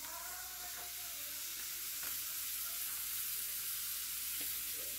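Steady, close sizzling of sausage frying in a pan, a continuous crackling hiss with a few small pops and no talking.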